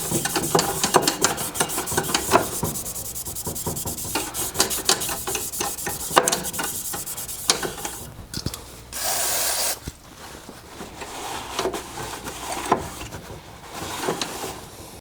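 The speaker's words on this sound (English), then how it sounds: "I'll just give the disc here a quick wipe, just to make sure there's no oil or grease on it" A rag wiped over the drive disc of a Murray snowblower, heard as continuous close scrubbing and rubbing with rapid rasping strokes and a few brief knocks from handling.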